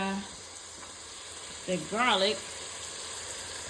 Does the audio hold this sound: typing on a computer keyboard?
no